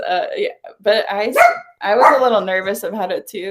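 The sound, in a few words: dog barking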